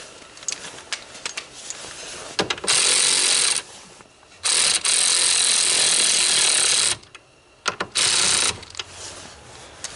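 A wrench ratchets a tie rod end nut tight on a 2005 Honda Accord, giving sharp clicking bursts and longer buzzing runs that start and stop in irregular spells, close up and loud.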